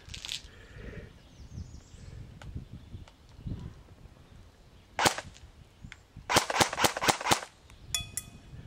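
Airsoft DE M89 UMP firing at a metal pan target about 125 feet away outdoors, with a single sharp shot, then a rapid burst of snappy cracks and a few more crisp pops against quiet background.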